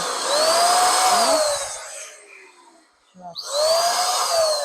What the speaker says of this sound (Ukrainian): У мене є фарбопульт, надіюсь, він працює.